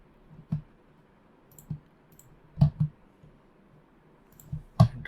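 Sharp mouse clicks while connecting over RDP to a Windows virtual machine in an Azure Files lab, about five separate clicks spaced irregularly, a couple in quick pairs, close and crisp over near silence.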